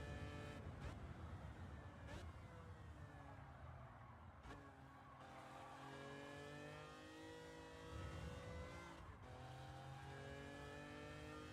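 Race car engine in Gran Turismo 7 downshifting and braking hard into turn 1, a loud continuous engine note with falling harmonics and sharp gear-change blips across the whole stretch.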